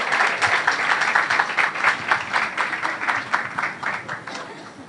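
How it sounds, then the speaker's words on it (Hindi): A church congregation claps to welcome a preacher to the front, a steady dense patter of many hands that fades slightly toward the end. "आइए हम प्रभु के दास भाई विजय का ताली बजा के स्वागत"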